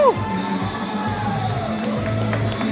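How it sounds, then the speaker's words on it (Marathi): Large crowd at a devotional theme park show in Shirdi, a steady broad murmur of many people with occasional cheers and whoops and a few descending whistle-like tones, moderately loud throughout. "बट गर्दी खूप आहे"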